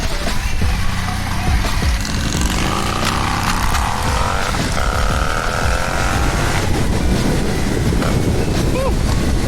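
A 1200 motorcycle riding along a rough street, its engine droning steadily under heavy wind buffeting at the microphone, with the pitch rising and shifting as the bike accelerates through the gears.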